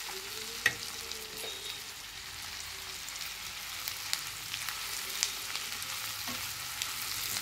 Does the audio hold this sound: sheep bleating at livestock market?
no